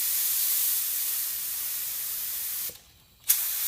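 An activator spray gun releases a steady, fairly loud hiss of fine mist that stops abruptly near the end, followed by a brief silence and then a short renewed burst of spray.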